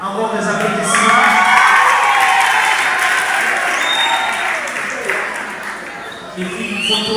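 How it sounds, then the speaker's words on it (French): Loud audience applause with cheering and whoops at a diploma and merit award ceremony in Kinshasa, a dense crowd clapping close by with voices and shouts mixed in throughout. "Encore des applaudissements."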